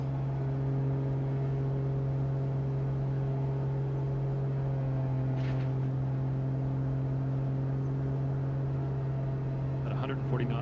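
A Diamond DA40 aircraft engine at full throttle in Microsoft Flight Simulator holds a steady, constant droning hum with a strong low tone, with a faint voice and brief clicks near the end.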